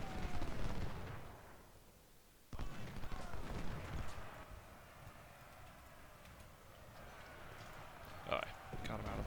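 Sporadic musket volleys in the Civil War game Manassas Depot around a fort, a few scattered distant reports and crackling shots at irregular intervals over low battlefield ambience, with a voice talking.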